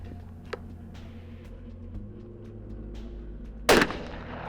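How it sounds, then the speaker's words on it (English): A single loud, sharp scoped-rifle shot cracks out at an outdoor rifle range late in the clip and decays quickly, preceded by quiet background and a few faint ticks. "After sending a few rounds downrange"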